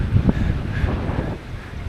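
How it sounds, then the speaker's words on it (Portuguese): Strong wind gusting on an open beach, a broad steady roar buffeting the microphone with a few louder surges. "Que o vento tá bem forte aqui, ó."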